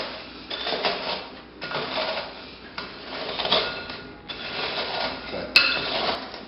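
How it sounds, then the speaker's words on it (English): Graham crackers crushed in a kitchen by pressing one bowl down into another. Repeated close, crunchy grinding bursts come in about four pushes, with no talking. "One of the best ways to crush your graham crackers is not trying to do it with your hands, but just take another bowl and just push."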